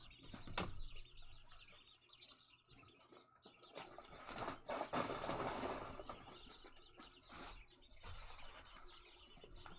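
Young chickens, about a month old, flap their wings and chirp as they leave a coop through an open door, with bursts of wing flutter, scattered peeps and coos, and some movement noise, no talking.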